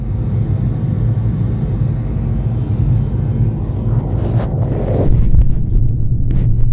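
Aircraft cabin noise, a steady low roaring rumble with broadband hiss that thins and flutters near the end as noise cancellation shifts, continuous with no voices.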